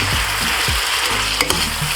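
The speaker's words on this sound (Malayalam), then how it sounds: "നമ്മൾ വറുത്ത് വെച്ച മഷ്റൂം നമുക്ക് അതിനകത്ത് ആഡ് ചെയ്യാം" Fried mushrooms stirred in a pan with chilli sauce: a loud, close, continuous sizzle, with the scrape and swish of stirring repeating every half second or so.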